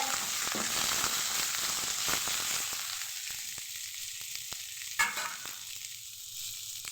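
Coconut, coriander, tamarind, onion, dried chili and cumin fry in oil in a pan, giving a steady close sizzle with scattered stirring scrapes and clicks; no one speaks.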